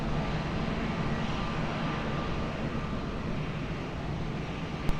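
A Qatar airliner takes off from runway 20 at Lisbon Airport, a broad, steady engine roar heard from a distance with no break or voices.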